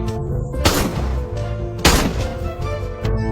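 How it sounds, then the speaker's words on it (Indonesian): Two loud broadband blasts from gunfire in a dramatic film scene, one near the start and another midway, each ringing out over a continuous tonal score. "Setelah suara tembakan"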